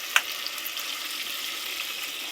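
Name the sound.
water poured into a pan of frying vegetables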